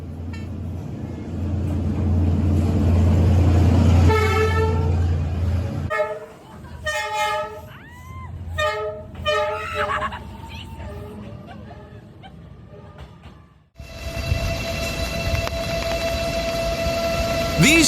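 A train horn blares in long sustained toots as a train passes along a narrow street in Hanoi, Vietnam, followed by clattering and rumbling, then a loud steady roar close by.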